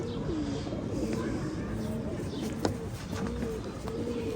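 Firozpuri pigeons coo in soft, repeated low calls over a steady background murmur, with a brief sharp tap near the middle.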